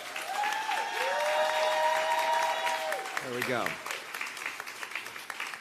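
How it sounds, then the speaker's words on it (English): An audience at a Los Angeles County District Attorney debate applauds the candidates with steady, full clapping that lasts several seconds, while a voice speaks over it and a thin whistling tone sounds briefly. "Can you give the candidates a big round of applause?"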